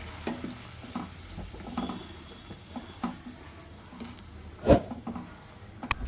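A pan of tamarind mixture for puliyodharai bubbles and sizzles steadily at low volume, with faint stirring clicks and one sharper scrape near the end.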